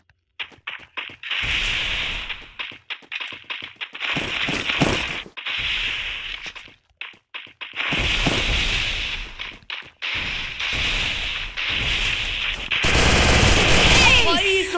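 Rapid bursts of automatic gunfire and single shots ring out in the Free Fire video game, loud and dense, with brief pauses between volleys.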